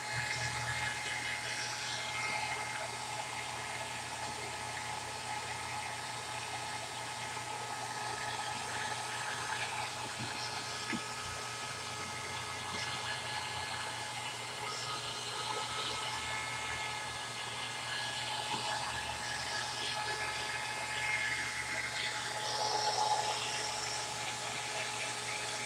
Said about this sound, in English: May have to switch out my dryer because I can't run this thing for longer than 10 minutes.